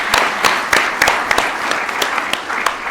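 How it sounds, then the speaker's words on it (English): Close, loud audience applause at a coaching launch, thick continuous clapping with several distinct sharp claps standing out, sustained throughout. "I really want to give Dave a round of applause"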